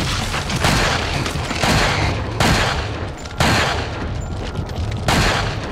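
Gunfire from Resident Evil 4 on Extreme Condition: loud, booming shots in a quick burst, then several more separate blasts spaced a second or so apart, with no talking over them.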